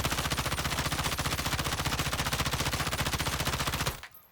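Rapid automatic fire from an M13 rifle in Call of Duty Warzone, a loud, steady burst of evenly spaced shots lasting about four seconds before cutting off abruptly.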